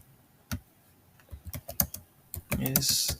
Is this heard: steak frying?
no